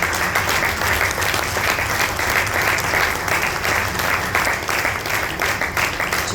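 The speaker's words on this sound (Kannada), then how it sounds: "ಜೋರಾದ ಚಪ್ಪಾಳೆ." A concert audience at a Carnatic music event bursts into loud, sustained applause, a thick, even roar of many hands clapping without pause.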